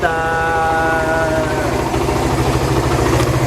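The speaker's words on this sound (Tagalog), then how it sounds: "ang motorsiklo na tumatakbo sa Daso Water Fuel" A Suzuki motorcycle converted to run on water fuel with a bubbler and carburetor idles steadily up close, a loud, even mid-pitched engine drone with a faint whine fading early on.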